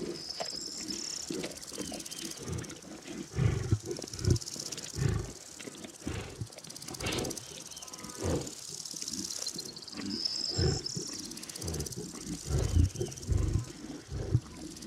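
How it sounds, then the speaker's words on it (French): A pride of lions gathered at a kill on the savanna, growling, roaring and snarling while feeding, loud and close, with continuous overlapping rumbles and bursts and a steady insect hum behind, no talking. "La scène est bruyante, pas très ragoûtante, mais somme toute plutôt paisible si l'on considère le nombre de fauves qui sont ici réunis."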